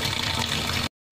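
Water gushes and splashes steadily while spinach leaves are rinsed in a basin, a loud continuous wash that stops abruptly near the end.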